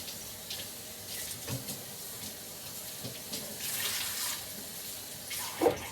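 Tap water runs steadily into a sink to soak a rag, a low continuous splashing wash with a sharper splash near the end, in a home kitchen while making sourdough bagels.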